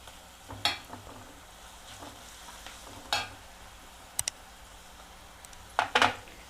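Half a spoon of ginger fries in a pan with a little salt for a chapati curry, a soft, steady sizzle broken by a few scraping stirs and clinks of a spoon against the pan.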